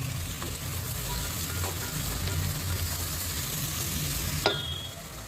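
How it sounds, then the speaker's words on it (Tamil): Tomatoes sautéing in oil in a pan while sambar is being made, giving a steady, dense sizzle with occasional soft scrapes of a spatula and a brief clink near the end. "தக்காளி நல்லா வதங்கட்டும்"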